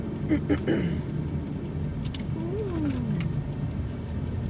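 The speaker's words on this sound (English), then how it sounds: "I'm just driving around right now" A car driving along, heard from inside the cabin as a steady low road-and-engine rumble, with a few small clicks and rattles near the start.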